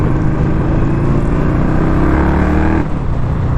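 A 2021 Indian Scout Bobber motorcycle accelerates hard in second gear, its engine a loud, steady, throbbing roar with rising harmonics that drop briefly near the end as it shifts.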